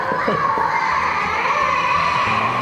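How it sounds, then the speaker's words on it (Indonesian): Several people, children's voices among them, shout and call out excitedly and continuously as visitors arrive at a house, forming a loud, crowded clamour. "ini udah kita permisi langsung ada yang teriak-teriak"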